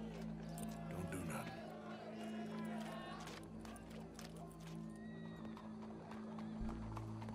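A horse in Red Dead Redemption 2 snorts and whinnies amid clopping hooves, close and clear over a low ambient drone, with voices speaking intermittently.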